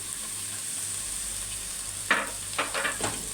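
Julienned onions hit hot ghee in a pan with a sudden sizzle partway through, followed by a few bursts of spattering and stirring over a steady background hum; no one speaks.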